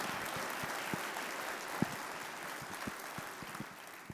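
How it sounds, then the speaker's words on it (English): Conference audience applause, a faint, distant wash of steady clapping with a few sharper individual claps standing out, fairly quiet throughout. "Please give them a round of applause."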